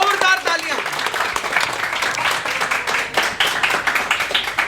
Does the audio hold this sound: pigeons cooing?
no